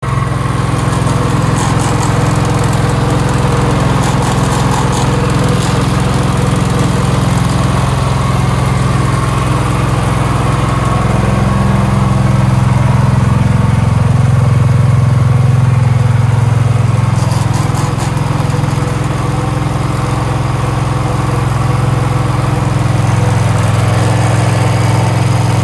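A motorcycle engine runs steadily, a loud, continuous low drone with a buzzing vibration that shifts slightly in pitch over about twenty-five seconds, close to the microphone and with no voices.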